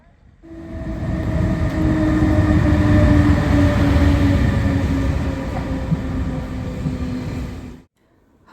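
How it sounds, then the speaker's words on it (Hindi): A Swiss train runs toward Thun station, a loud sustained rumble of a carriage interior with steady rolling noise and drawn-out tonal whines that fade abruptly near the end. "हम वहाँ से ट्रेन लेके थन स्टेशन आ गए"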